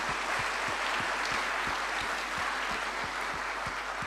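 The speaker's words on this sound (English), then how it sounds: "Big round of applause for these 3 guys." Seminar audience clapping together, a soft, distant wash of applause with a steady rhythmic beat of unison claps running underneath for a few seconds.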